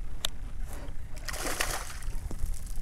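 A hooked flounder thrashes beside a kayak in Galveston bay waters, giving a few sharp splashes and sloshes close by, with one bigger burst of spray in the middle.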